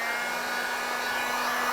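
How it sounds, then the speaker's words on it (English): Heat gun blowing hot air onto a decal on a 1999-2006 Chevrolet Silverado 1500, a steady loud whooshing hiss with a constant hum, continuous and close throughout with no talking. "I'm going to use a heat gun and just keep some distance and move it around a lot."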